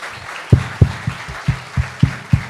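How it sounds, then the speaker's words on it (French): A small audience applauding an evening performance: a sparse, slow series of about eight distinct claps in a rhythmic pattern, fairly close and loud, with no talking. "Je vous laisse applaudir"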